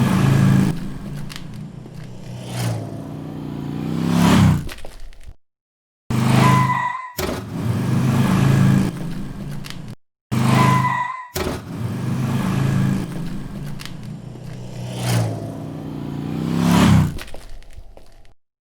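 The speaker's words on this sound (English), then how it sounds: "So by combining different sounds, different lengths of motorcycle pass-bys" Layered motorcycle pass-bys built for film sound design: repeated engine swells rise and fall, cut off abruptly by short silences between takes, several overlapping whooshes up close and loud.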